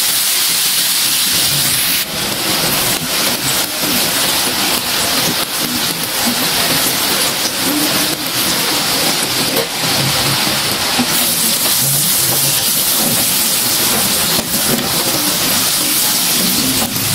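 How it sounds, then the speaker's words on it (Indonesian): Steady crackling sizzle of batter-coated chicken frying in hot oil, a dense continuous hiss with small pops, close and constant with no talking. "goreng semua ayam balut tepung tadi menggunakan secukupnya minyak goreng"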